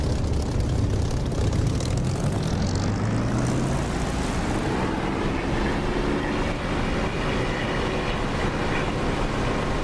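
An aircraft engine in the DCS flight simulator spools up for takeoff, a loud continuous roar with a rising drone that builds and holds steady, heard alone without talk.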